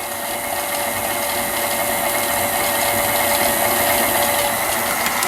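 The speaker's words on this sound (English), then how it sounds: "whisk this until it's very thick." Angel food cake batter of beaten egg whites with vanilla extract being whisked, likely by an electric mixer, giving a continuous loud mechanical whir that holds steady for the whole stretch, with no talking.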